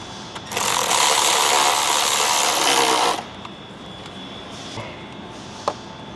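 A power tool drives down a bolt while an intercooler pipe is fitted on a 2025-2026 Ford Explorer ST, a loud steady whirring burst of about three seconds, followed by quieter background noise and a faint click.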